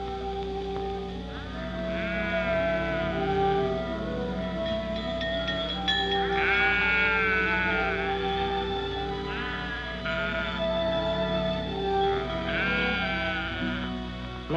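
Sheep bleat repeatedly in a corral, several wavering calls overlapping at close to middle distance, over a steady low background rumble.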